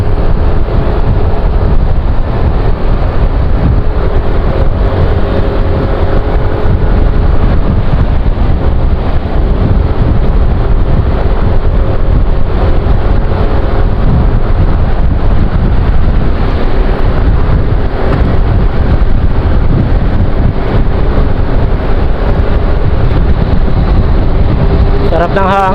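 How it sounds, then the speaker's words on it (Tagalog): Strong wind off the sea near Roxas Boulevard, Pasay, buffets the microphone with a constant loud roar and rumble, with faint traffic underneath. "para yung hangin galing Rojas Boulevard eh"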